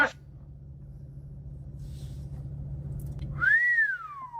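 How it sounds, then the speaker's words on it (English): A man whistles a single rising-then-falling note near the end, loud and close, after a stretch of low rumbling background. "This man literally whistled, woo"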